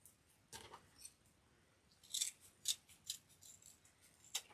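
Scissors snip through ribbon for a thin Easter wreath, several separate crisp cuts spaced irregularly and heard up close against a quiet room.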